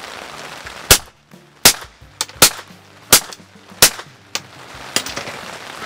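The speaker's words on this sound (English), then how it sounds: "I love shooting suppressors," Suppressed gunshots fired without a booster, eight sharp, muffled reports spaced at roughly even intervals, close and loud, with quiet outdoor air between them.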